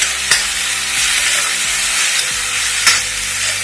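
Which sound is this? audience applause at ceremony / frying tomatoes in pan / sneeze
frying tomatoes in pan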